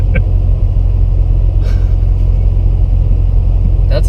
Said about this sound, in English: my car never sounds loud when I downshift or whatever